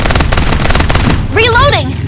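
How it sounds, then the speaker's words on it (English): Rapid automatic gunfire rattles in the mobile video game Farlight 84, loud and close in a fast burst for over a second, followed by a shouted voice. "Open fire!"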